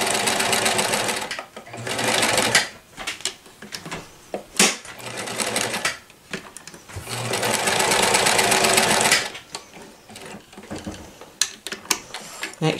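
A 1994 New Home Special Edition Model 108 sewing machine stitches zigzag in loud, fast mechanical bursts of a few seconds each, separated by brief pauses with lighter clicks.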